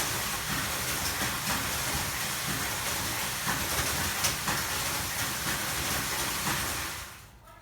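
A chili stem cutting machine that feeds chilies along an internal spiral screw runs with a continuous rattling mechanical clatter and hiss, close and steady, before fading away at the end.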